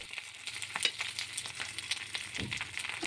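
Hot tempering with curry leaf stems poured onto cooked chickpeas gives a steady close sizzle with crackling pops and light stirring throughout, with no voices.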